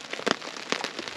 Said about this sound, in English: we're just gonna hang out in the rain.